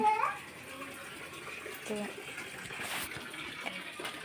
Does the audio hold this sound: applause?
no